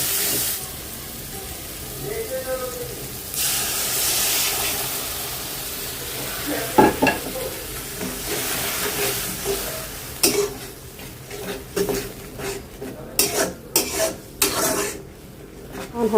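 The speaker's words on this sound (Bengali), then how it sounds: "এখন একটু মশলাটা ভালো করে কষাই নেব" Masala frying in a pan with rough scraping and rubbing stir strokes, a hiss early on giving way to irregular louder scrapes and knocks toward the end.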